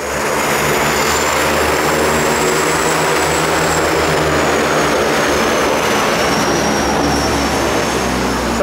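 Aircraft coming in to land at a Maldives island resort: a loud, steady propeller drone holds continuously throughout, with a high whining engine tone drifting slowly downward.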